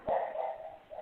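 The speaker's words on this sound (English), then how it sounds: "sounds like Kobe's barking at something in the front yard" A dog barks at something in a front yard, a single short bark heard at a distance, then fading.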